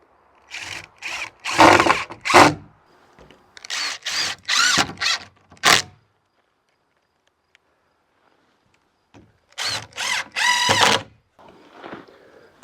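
A power drill drives screws into a greenhouse frame in three bursts of whirring, each a few seconds long, with a quiet gap between the second and third.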